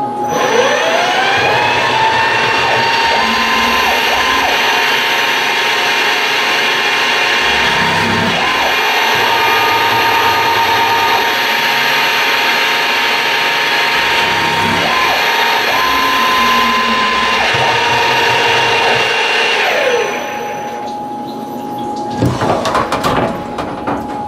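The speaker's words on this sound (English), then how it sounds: "we'll put in our chamfer mill and we'll come back and we'll chamfer those two holes on each side" A chamfer mill cutting holes in metal spacers on a milling machine gives a loud steady whine with pitch steps as passes change, ending with the spindle winding down and a few clanks near the end.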